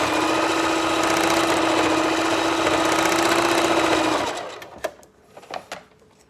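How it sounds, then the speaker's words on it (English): A sewing machine runs a straight stitch across bikini fabric, buzzing steadily and closely for about four seconds before stopping, followed by a few faint clicks and handling sounds. "I'm getting ready to do a straight stitch straight across"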